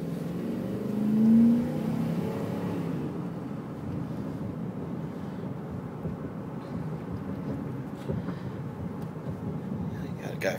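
A 2006 Dodge Ram Quad Cab pickup truck drives along with a steady, fairly quiet low engine and road rumble, with a brief rise in engine note early on.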